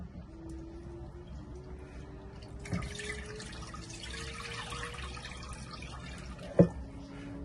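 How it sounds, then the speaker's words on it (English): Liquid is poured into a bowl while making lemon and lime sorbet, a soft trickling stream running under a low background hum, with a faint clink near the middle and a sharper tap toward the end. "just pour in all my liquid in there"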